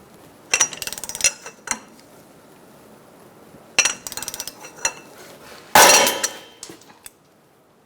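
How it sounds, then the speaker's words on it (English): Rubber mallet tapping on the center of a front axle of a 2002-2006 Honda CR-V during ball joint work, three separate clusters of close, sharp knocks split by quiet pauses. "Using a rubber mallet, I'm just going to tap on the center here."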